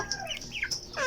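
A young male silkie chicken kept as a backyard breeder gives a quick run of faint, high chirps and short clucking calls, close but quiet, with no talking.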